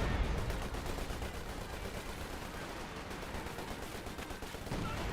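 Gunfire in Company of Heroes 2, a dense continuous battlefield din of machine-gun bursts and rifle shots at moderate distance, steady throughout with no clear pauses.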